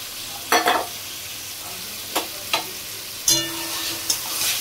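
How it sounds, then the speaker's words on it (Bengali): Goat liver and potatoes cook with spice paste in a pan, a steady loud sizzle broken by several distinct scraping stirs of the spatula. "এবার মেটেটা দিয়ে খুব ভালো কষাবো, অনেকক্ষণ ধরে কষাতে হবে"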